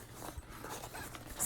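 A packing cube's zipper is pulled open in a short, close, scratchy run, with a slightly louder rasp at the end and no talking.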